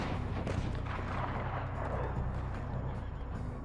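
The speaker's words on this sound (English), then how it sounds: "Who is shooting at me?" Gunfire in a video game rumbles through a busy, dense battle mix, with heavy repeated shots and booms blending into a continuous low roar and no clear gaps.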